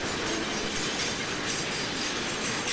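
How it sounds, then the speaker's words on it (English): A train of auto rack cars rolls past close by, a loud, steady roar of wheels and rail noise with faint clickety-clack that fills the whole moment without letup. "As this train passes,"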